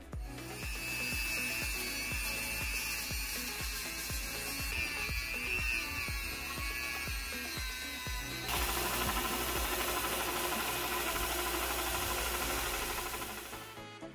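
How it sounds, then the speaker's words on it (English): Belt sander and Dremel cleaning up the surface of a 3D printed steel part: a steady, close grinding whir with a high tonal whine that shifts to a harsher, broader rasp halfway through, no talk. "we'll clean up the surface a bit with a belt sander and Dremel"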